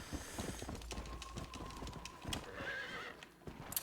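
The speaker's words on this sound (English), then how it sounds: "Going off the beaten path with the horse is very slow in this game." A horse ridden off-road in the Red Dead Redemption: Undead Nightmare video game, steady clip-clop hoofbeats with a whinny partway through, quiet against soft game ambience and music.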